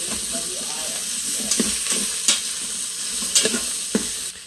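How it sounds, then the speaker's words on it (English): Vegetables browning in an Instant Pot, a steady hiss of sizzling with scattered scrapes and clicks as they are stirred, close by and without talk. "From time to time, you want to stir the vegetables, so not one side gets too brown."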